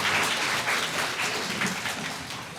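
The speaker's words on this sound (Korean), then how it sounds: "예, 박수 한번 해주세요." Wedding guests applaud steadily in a hall after the groom's vow at a church-style ceremony, a dense wash of many hands clapping at once for a few seconds, loud and close, without talk over it.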